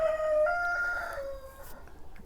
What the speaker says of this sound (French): le coq est d'accord